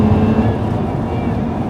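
A Lotus Emira fitted with an Eventuri intake pulls hard under acceleration on a B-road, with a loud, steady engine roar heard briefly and close.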